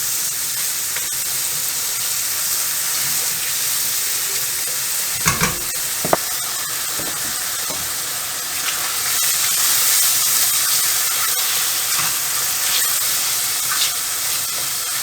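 Mushrooms sizzle and fry steadily in a hot pan for beef tips in red wine sauce, with a continuous close hiss and a few brief stirring scrapes partway through.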